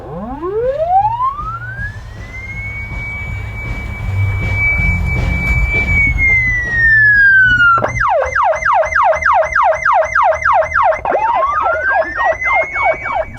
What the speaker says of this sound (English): We're going to try out the original VL Interceptors lights and siren